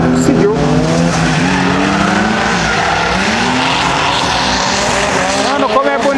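A Chevrolet Chevette drifts on a kart racing track, its engine roaring and revving loudly, with tires squealing as the car slides through the turn.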